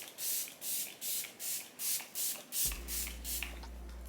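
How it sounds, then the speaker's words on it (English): A makeup setting spray bottle is pumped in a quick series of about nine short, soft hissing bursts with a steady rhythm, close and fairly quiet, followed by a low hum with no talking. "So I'm going in with the Sataj spray."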